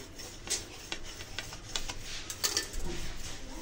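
A knife cuts through a freshly cooked Spanish omelette, giving light scattered ticks and taps of the blade against a plate or board, fairly close and quiet with no talk.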